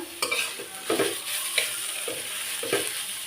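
Turmeric-coated fish tossed and mixed in a pan for a Bengali fish bhorta, with soft irregular stirring scrapes and light sizzling over a steady hiss, close by.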